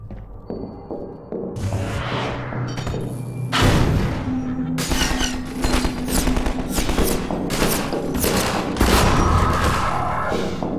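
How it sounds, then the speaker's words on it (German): Rapid bursts of gunfire from the Half-Life 2 video game, loud and close, with repeated sharp shots and thuds in dense volleys over a constant rumbling game soundscape, no talk. "Ich habe nur einen Schuss abgegeben."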